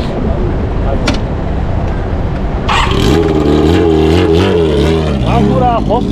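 Kawasaki Z motorcycle engine revving hard through a loud aftermarket muffler at a Z owners' meeting, a close, loud swelling roar that rises and falls, with people talking nearby.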